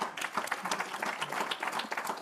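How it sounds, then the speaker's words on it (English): An audience at a tourism investment fireside chat claps in a dense, steady round of applause with no talk over it. "huge round of applause."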